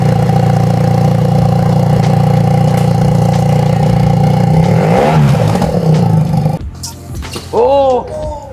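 A BMW R1300 GS motorcycle engine runs without an exhaust, holding a loud, rough steady drone that rises briefly before cutting off, with a voice speaking over the end.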